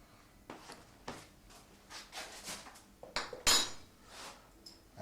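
A teaspoon scrapes and clinks lightly on a pizza base while spreading sauce, giving soft, intermittent close-up scraping strokes with one sharper clink, in a quiet kitchen.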